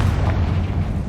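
Confringo explosive spell in Hogwarts Legacy going off as a short, deep booming blast with a thick low-end rumble, loud and close, lasting about a second.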